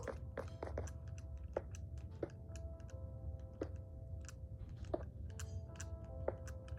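A game character eating a loaf of bread: a run of small crisp crunching bites, evenly spaced and close, over a low steady background hum with no talk.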